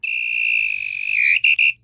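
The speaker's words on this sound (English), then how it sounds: "And the final whistle." A referee's final whistle in the Headball 2 football video game sounds as one long shrill blast followed by two short toots, loud and alone.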